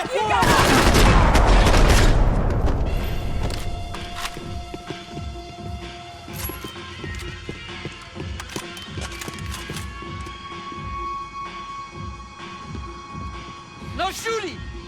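Gunfire in the video game Max Payne 3, a heavy loud burst of rapid shots at the start, then scattered single shots and impacts over game ambience while voices shout and talk.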